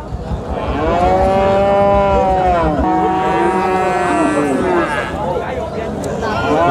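A Friesian bull calf moos loudly and nearby in one long, drawn-out call at a busy cattle market, with crowd noise behind it.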